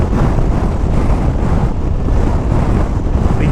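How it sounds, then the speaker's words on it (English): Steady, heavy wind roar buffeting the microphone while riding a CFMOTO 800MT motorcycle across Australia, a loud continuous rush with no pauses or talk. "but still very windy"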